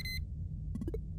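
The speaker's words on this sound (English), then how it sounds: "Let's send our scanner drone to room 4. Beep, beep, beep, beep, beep." A scanner drone in the video game Duskers gives one short electronic beep, then four quick, lower bleeps in a rising sequence over a low rumble.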